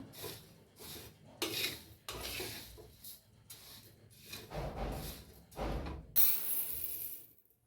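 Rice dry-roasting in a pan for thalipeeth flour, stirred with a spoon in bursts of rattling, scraping strokes with short pauses between them, close and fairly loud.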